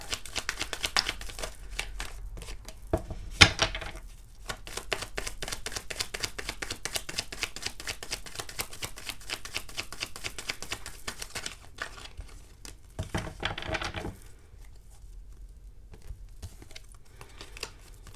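Tarot cards shuffled by hand in a close, steady riffling patter, with brief louder flurries and a short pause before the shuffling resumes more quietly.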